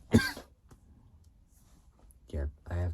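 Harsh cough from someone with a cold, one loud burst at the start, then a quiet gap, followed by two more strained coughs close together near the end, close to the listener.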